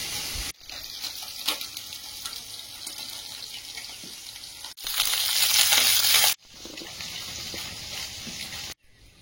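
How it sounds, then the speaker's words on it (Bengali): Loud sizzling of fish frying in hot oil, broken by a few abrupt cuts, with one louder burst of crackling in the middle. "বড় মাছ ভাজবো"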